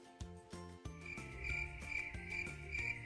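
A cricket chirps in regular high-pitched bursts as a comic sound effect, layered over a soft repeating musical bed, with no talking.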